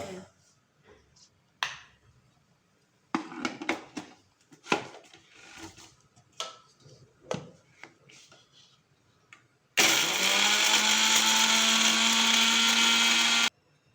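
Tomato chutney ingredients churn in a mixer jar for spicy roadside-style kara chutney; scattered clicks and clatter come first, then a loud, steady, close whirring grind lasting about four seconds before cutting off.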